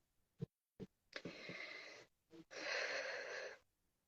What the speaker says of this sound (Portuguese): eu quero que vocês façam uma respiração 3 vezes, profundamente, para relaxar